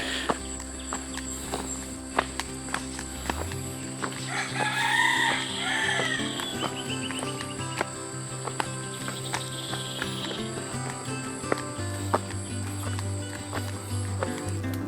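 Chickens cluck and a rooster crows in a rural village near the Mekong in Luang Prabang province, Laos. Footsteps and scattered clucks come and go throughout, with crowing rising near the middle.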